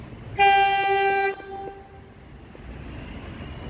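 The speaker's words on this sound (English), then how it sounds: "Here's our train coming from the city loop." Metro train arriving at Caulfield Station: a loud, close horn blast of about one second, followed by a quieter rumble of the train on the tracks.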